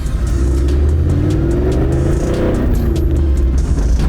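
A Toyota LandCruiser 76 engine revving hard and close, a loud, throaty low roar that climbs and falls in pitch as the throttle is worked, with no talking over it.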